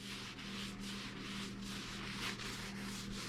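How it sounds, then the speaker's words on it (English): Cloth wiping alcohol across a Tusk half windshield on a Kawasaki KRX 1000 side-by-side, a steady soft rubbing and scrubbing in repeated strokes, close and continuous over a low background hum. "we're going to use some alcohol to just clean off some of the debris so it doesn't fall off"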